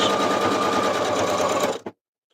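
Sewing machine stitching around the lace edges of a junk journal tag, a close, loud rapid mechanical whir that runs steadily and then stops abruptly.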